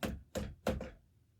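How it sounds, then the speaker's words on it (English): Three distinct knocks tap on a door at a steady, even pace, close and clear, followed by a brief silence. "He heard a tap, tap, tapping,"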